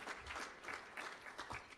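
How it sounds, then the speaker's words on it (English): An audience at a ribbon-cutting ceremony claps steadily, a soft, brief patter of many hands at moderate distance with no voices over it. "I stepped on my applause on that one."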